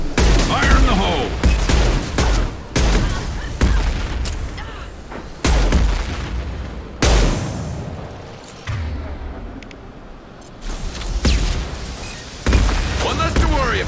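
A grenade explosion in Mass Effect 2 followed by bursts of gunfire: a series of loud, sharp booms and shots spaced a second or two apart, with quieter combat sound between them.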